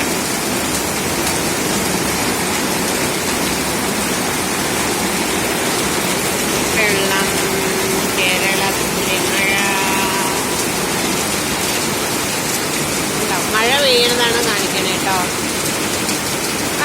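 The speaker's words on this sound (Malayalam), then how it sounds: "മഴ കണ്ടോ ഭയങ്കര മഴയാണ്" Steady, dense hiss of heavy summer rain in Kerala fills the whole stretch, with a few faint high chirps or squeaks briefly rising above the downpour.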